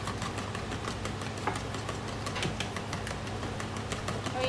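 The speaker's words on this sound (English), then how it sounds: "Egg whisking." Eggs for coconut flour cupcakes are beaten with a whisk, a fast, continuous run of light ticks and scrapes against the bowl, close and fairly even throughout.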